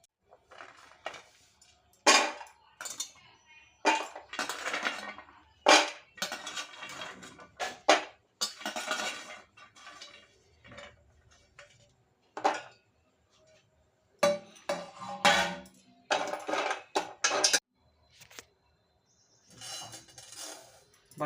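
Fox nuts (makhana) tipped into a pan with other nuts and lightly roasted over a low gas flame, heard as bursts of dry rattling and clinking against the metal, coming in irregular clusters separated by short quiet gaps.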